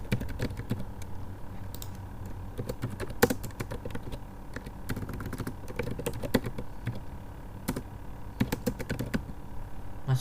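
Keys clatter on a computer keyboard in quick, uneven bursts of close, soft taps, steady typing with brief pauses during data entry into an employee form.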